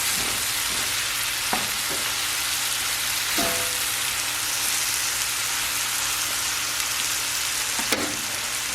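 Shrimp sprinkled with seasonings fries in a pan for shrimp and grits, giving a constant close sizzle like steady rain, with a few faint clicks and taps over it.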